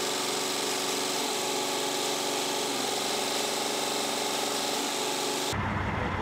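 A diesel engine runs steadily and loudly during a cylinder cutout test, its tone changing subtly as individual cylinders are switched off and on, before the sound shifts abruptly near the end.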